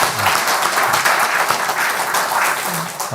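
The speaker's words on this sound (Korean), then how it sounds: "우리 하나님께 영광의 박수를 함께 드립니다." Church congregation applauding during a Korean Sunday worship service, dense continuous clapping filling the room at steady volume throughout, with faint voices underneath.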